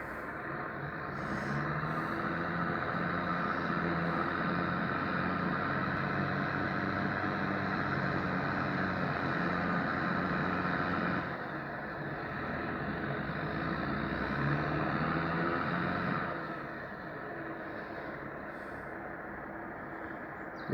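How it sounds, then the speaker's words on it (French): Claas Axion 960 tractor pulling a three-axle Joskin tipping trailer while hauling for wood chipping, its engine a steady, moderately loud drone that dips slightly toward the end. "Donc ça c'est un tracteur qui roule très bien."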